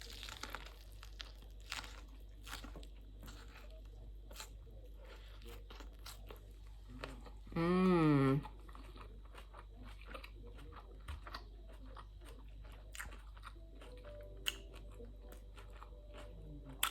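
Faint, soft crunchy bites and chewing of plant-based chicken bao buns recur close up in a quiet room, broken midway by a short, loud wavering voiced hum.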